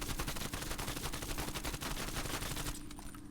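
Rapid, sustained automatic fire from an AK-74U in Black Ops Cold War, a dense stream of loud shots aimed at a wall that stops just before the end.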